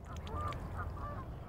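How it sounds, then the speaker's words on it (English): Geese and ducks in Kensington Gardens, London, give a few honks and quacks at close range over a low background rumble. "As children, I think all of us enjoyed coming out to feed the ducks and the geese and the swans."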